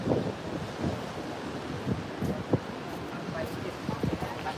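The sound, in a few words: wind blowing outdoors on a windy day in Benidorm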